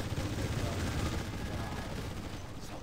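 Dense, continuous gunfire and explosions from a Command & Conquer Generals Zero Hour battle, steady rattling bursts with no pauses, moderately loud.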